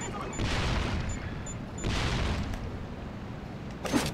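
A bomb goes off in the platform game Sly Cooper: Thieves in Time, two heavy rumbling booms about a second apart, then a sharper crack near the end, loud and close.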